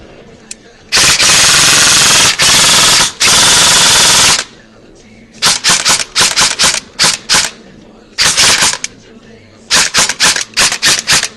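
An Echo1 Troy airsoft rifle fitted with a 16:1 speed gear fires close and loud, first in two long full-auto bursts, then in a series of short rapid bursts and quick trigger pulls, with quiet gaps between.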